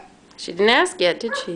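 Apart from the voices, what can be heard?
dog barking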